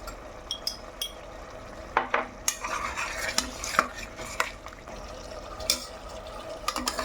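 Mutton liver frying in a pan with masala and chili powder, stirred with a spoon that scrapes and clinks now and then over a steady low sizzle, close and moderately loud, with no talking.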